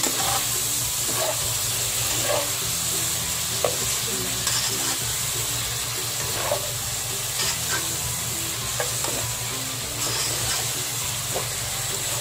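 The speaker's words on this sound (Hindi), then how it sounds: "और एंड पे ये ब्राउन शुगर डाल के अच्छे से फ्राई कर लेंगे" Chinese-style sizzling fish fries in a pan with chili sauce and brown sugar, giving off a steady, loud crackling sizzle that runs throughout, broken by repeated scraping stirs of a spatula and no talking.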